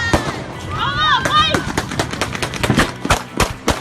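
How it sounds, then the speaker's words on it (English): Gunfire at a street protest in Ferguson, a rapid string of sharp cracks spread across a few seconds, mixed with shouting voices and crowd noise. "As the car drove away, gunfire was heard, causing panic."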